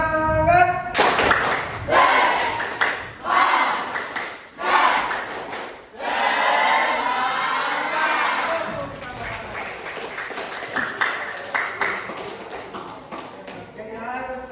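A classroom of students performs a rhythmic spirit clap chant, bursts of synchronized clapping and shouted voices in repeated groups, loud and close, with a sustained cheer in the middle.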